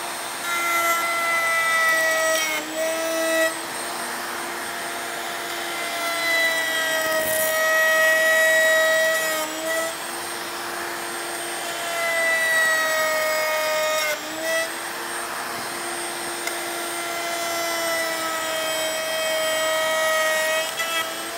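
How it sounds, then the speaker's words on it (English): A table-mounted router cuts a rabbet in picture frame wood, giving a loud, sustained high-pitched whine with a few brief dips and changes in pitch as the stock is fed through. "Now we're rabbit hunting here at the router table."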